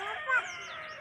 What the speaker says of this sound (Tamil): அங்கே கோழி இருக்குது பாருங்க